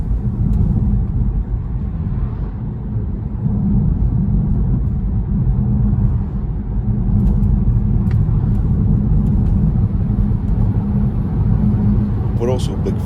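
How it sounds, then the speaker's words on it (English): BMW i3 electric car driving on country roads, a steady low rumble of road and tire noise in the cabin under continuous talk. "There's a bit more road noise once you start hitting country roads"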